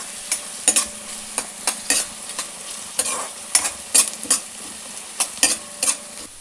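Sliced onions for vegetable fried rice sizzle steadily in a hot pan while a spatula stirs and scrapes them in quick, repeated clacks.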